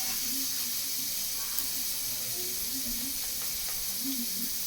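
Onions, green chilli, mint leaves and ginger-garlic paste sizzle steadily while sautéing in a cooking pot for one-pot rice, a soft continuous frying hiss with faint stirring.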